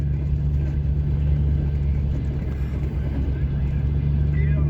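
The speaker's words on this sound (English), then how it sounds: "I'm just making a video riding some dirt roads on my way back home" Steady low engine drone and road rumble from a vehicle riding dirt roads in South Alabama, continuous and fairly loud throughout.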